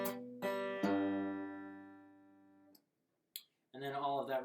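A guitar rings out part of the Sweet Home Alabama intro riff, a few plucked notes sustaining and slowly fading, close and clear, followed by a brief voice.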